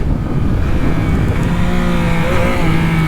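A loud motorbike engine pulls hard through rising revs, its pitch climbing and dropping between gears, close and continuous with no talking.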